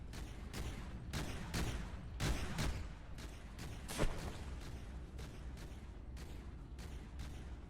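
Heavy weapon fire from the Beast in a video game battle, a dense, relentless barrage of repeated booming shots with regular bursts and a louder blast partway through, with no talking.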